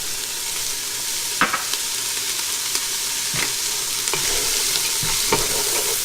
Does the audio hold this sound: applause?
no